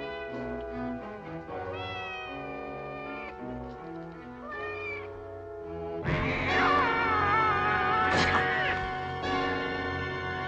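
Two cats meow in a dramatic 1960s space film scene, several drawn-out cries rising over a steady musical score and background tones, louder and more frantic in the second half.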